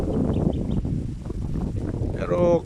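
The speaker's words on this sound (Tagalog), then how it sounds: "lakas ng hangin" Strong wind buffets the microphone outdoors under a cloudy red sunset sky, a continuous low roar of gusts that swells again near the end.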